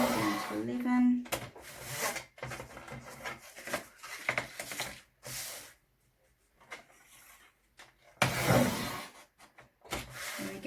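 A paper trimmer slices photo layout paper in several short, soft scraping strokes separated by pauses, close and quiet, while someone talks between the cuts.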